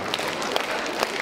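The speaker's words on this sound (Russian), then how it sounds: "Аплодисменты." Audience applause at a stage performance in Novosibirsk, a short burst of dense, even clapping from a crowd, fairly loud and close with no voices.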